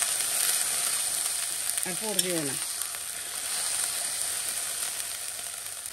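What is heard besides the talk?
spice paste frying in a pan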